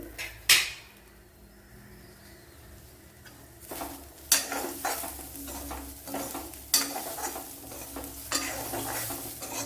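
Grated coconut fries in a pan while a spoon stirs it, with sharp scrapes and knocks against the metal recurring every few seconds over a low, continuous sizzle, close and without talk.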